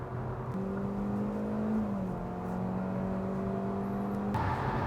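A facelifted Hyundai Avante cruises fast on a highway, heard from inside as a steady low engine and road drone with a faint tonal whine, continuous and even.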